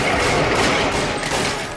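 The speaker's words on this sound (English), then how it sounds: "whose solution to every problem is to shoot guns at it" Gunfire from The Mummy (1999) film sounds as a dense, continuous barrage of overlapping shots, loud and sustained across the whole moment.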